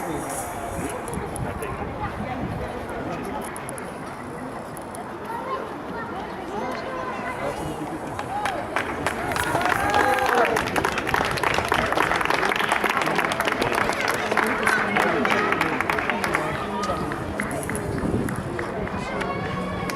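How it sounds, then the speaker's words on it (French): At a 10 km road race, spectators clap and cheer for passing runners, swelling louder midway through, with an announcer talking over the crowd noise throughout. "Sébastien Carré. ULM Main-sur-Loire qu'on va également applaudir, ovationner, acclamer maintenant"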